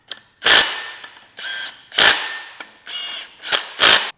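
OEM flywheel bolts on a Subaru STI engine being fastened with red Loctite on the threads, heard as a rapid series of loud, close ratcheting bursts separated by short gaps, with sharp metallic clicks between them and no voices.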